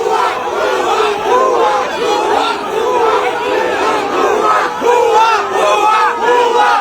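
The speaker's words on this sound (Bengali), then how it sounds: "সাধারণ জনতা ভুয়া ভুয়া স্লোগান দিয়েছে" Ordinary people in Bangladesh chant "bhuya bhuya" (fake) slogans as a crowd, a loud, continuous, rhythmic chorus of many voices repeating the chant throughout.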